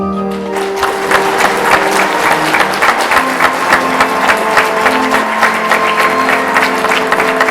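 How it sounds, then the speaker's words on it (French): Sustained audience applause fills a cadet corps annual review in Ste-Julienne: a dense, steady wash of many hands clapping, loud and close, with a faint voice at the start. "Ça mérite une applaudissement."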